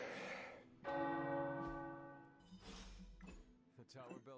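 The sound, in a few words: tower bells ringing in Marvel's Midnight Suns video game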